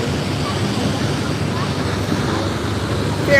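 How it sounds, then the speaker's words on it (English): A ferry pulling in on the East River in New York City, a steady low wash of engine and water with wind noise throughout, near and continuous. "Ferry pulling in."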